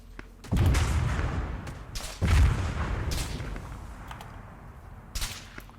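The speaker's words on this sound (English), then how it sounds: "I have 2 range shots come in." Artillery ranging shots landing in Arma 3, two heavy booming impacts a couple of seconds apart, each followed by a long rumbling tail, with fainter thuds later.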